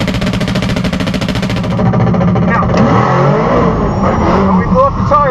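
A Tesla Model S Plaid launches down a quarter-mile drag strip, a loud rushing surge with a steady electric whine rising over crowd and track noise, with a voice briefly talking.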